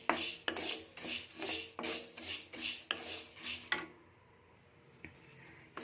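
Greens being heated and stirred in a pan at home, with repeated scraping and clinking of a spatula against the metal in a loose rhythm. After a short quiet stretch, one more scrape follows.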